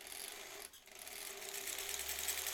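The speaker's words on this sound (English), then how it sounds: "A little bit of top stitching" A sewing machine top stitches a fabric face mask in one steady, continuous run with a brief dip partway, fairly close and alone without talk.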